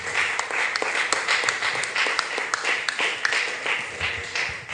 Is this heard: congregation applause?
yes